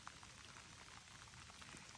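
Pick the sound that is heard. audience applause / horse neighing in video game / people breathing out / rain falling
rain falling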